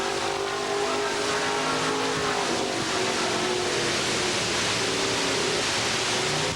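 A dirt-track race car on a Bullet chassis laps Pennsylvania Motor Speedway, its engine a loud continuous roar with a wavering pitch and a broad noisy wash that holds steady throughout.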